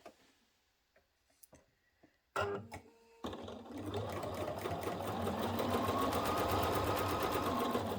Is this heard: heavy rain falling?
no